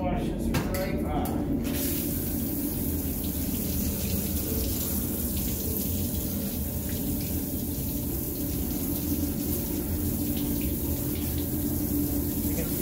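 A steady stream of running water rinsing the ground off an etching plate, a loud, continuous hiss and splash close by throughout, with a short clatter at the start.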